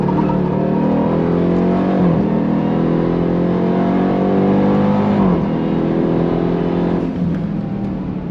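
Supercharged V8 of a 2024 Dodge Durango Hellcat Black Edition pulls hard, loud and close, its pitch rising in repeated sweeps with quick dips at each of several upshifts, engine roar continuous throughout.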